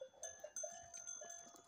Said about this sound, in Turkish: Uzun bir aradan sonra yine koyunları saldık.